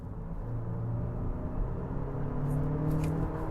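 A 2025 Nissan Murano with a nine-speed automatic accelerating hard to overtake, its steady engine drone rising in pitch as it pulls, heard from inside the cabin with no talking.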